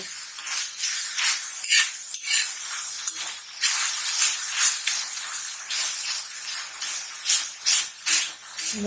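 Tomatoes frying in a hot pan on raised heat for boiled egg bhurji, a steady close sizzle and hiss with scraping stirring strokes throughout, no talk.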